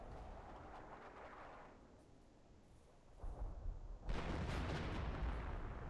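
Artillery shells landing in Company of Heroes, a distant low rumble that swells into heavier booming impacts and sustained roaring explosions toward the end.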